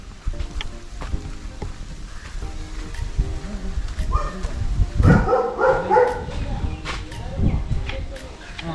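Dogs bark intermittently at a large seaside farm in Kakkathuruthy, Kerala; the barks come in short bursts mixed with whimpers, with people talking over much of it.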